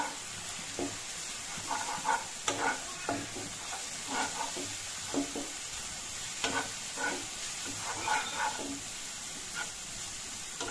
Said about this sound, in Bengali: এখন ভালো করে মিশিয়ে নিচ্ছি